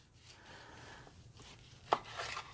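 A knife slices a rested prime rib ribeye roast cooked in a Ninja Foodi, making quiet cutting and scraping sounds that end in one sharp board tap.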